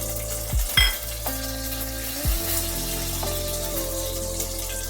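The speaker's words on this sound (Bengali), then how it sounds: "আর দিয়ে দিলাম তেলের মধ্যে গরম মশলা।" Whole spices, a bay leaf, a dried chilli and garam masala sizzle in hot oil while a fish rezala is being cooked, a steady close hiss with brief stirring clatters near the start and no talk.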